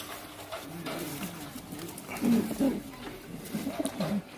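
Low throaty coos come from pigeons, including a Pakistani hen, close by in a loft, with soft murmuring voices and rustling underneath and a louder burst of cooing midway.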